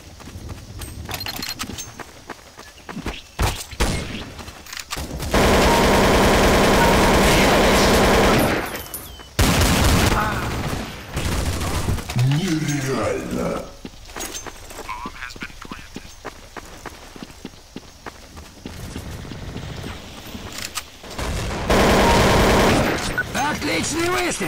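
Gunfire in the video game Counter-Strike: Source during a deathmatch, with loud sustained automatic bursts and single shots, punctuated by game announcer voices and chatter.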